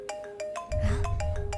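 A mobile phone ringtone plays a repeating electronic tone pattern at steady intervals, and a low rumble joins partway through.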